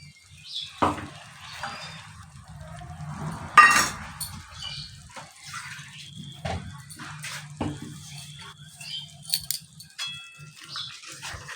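Yogurt and cashew paste cooks in a pan for Bengali katla fish kalia, giving a soft, intermittent sizzle with scattered clinks and scraping of a spoon against the pan, close and quiet, and no one talking.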